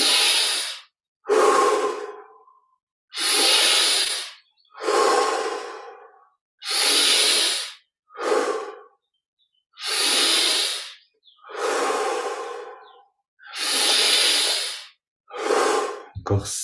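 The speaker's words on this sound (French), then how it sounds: "Encore 5 grandes respires." Deep, slow breaths during a guided meditation, about nine close, loud, airy inhales and exhales roughly every 1.5 seconds, heard alone with silent gaps between them.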